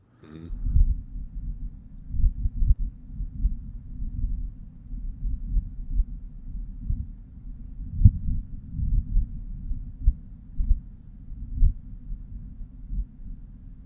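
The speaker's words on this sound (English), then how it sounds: "That's a wind on Mars. First time we've ever had an audio recording from Mars." Wind on Mars, played back as a recording: a low, muffled rumble that throbs and pulses irregularly like a heartbeat, continuous for several seconds with no voices.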